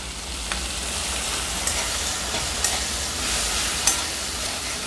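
Tomato frying in a pan with a paste of ground poppy seed, ginger and green chili added, giving a steady, close sizzle with a few soft stirring clicks and no voices.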